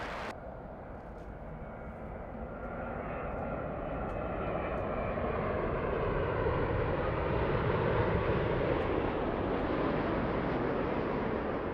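A heavy Boeing Dreamliner airliner on short final landing at LAX in gusty wind, its engine roar loud and steady, swelling slightly as it nears, with no talk.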